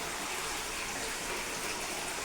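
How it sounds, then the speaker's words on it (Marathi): Tap water runs steadily in a broad, even rush, continuing without pause while vessels are being washed at a workplace preparing wedding orders. "माझं अजून पाणी चालूच आहे"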